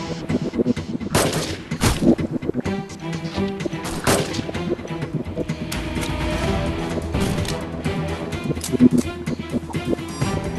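Sniper rifle shots ring out in the mobile shooter game Sniper Arena. Several sharp reports come in quick succession over game sounds, loud and close, followed by a steadier stretch of action noise.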